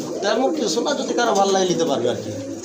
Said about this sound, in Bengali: আর এক জোড়া কবুতর দেখতে পাচ্ছেন বিগ সাইজে